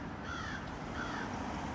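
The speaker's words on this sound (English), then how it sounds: "Oh, there's a crow there." A crow caws outdoors, with two drawn-out calls that sound moderately distant over a constant background hiss.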